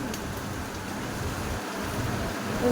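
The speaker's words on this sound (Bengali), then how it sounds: "দুপুরবেলা এখন সেই কন্টিনিউয়াসলি বৃষ্টি হয়ে যাচ্ছে" Heavy rain falls nonstop outside an open window during a cyclone, with strong wind. It makes a steady, dense hiss with low gusty rumbles, and no voices are heard.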